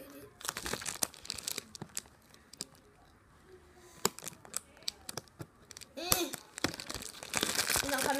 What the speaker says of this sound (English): Cutting the whole plastic bag. Ripping it apart.